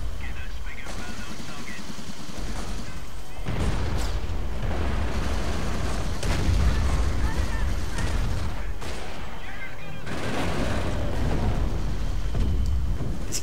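Artillery bombardment in Company of Heroes: repeated heavy booming blasts and crackling impacts, dense and loud, arrive in bursts over continuous battle noise, with a voice talking over parts of it.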